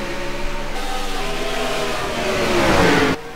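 Stock cars in a NASCAR-style racing video game, Nationwide Series, at the green flag start at New Hampshire: a pack of engines revs loud and close, pitch climbing steadily, then swells and cuts off abruptly.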